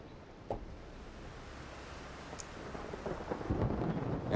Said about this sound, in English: if you listen, there's the Rainstorm.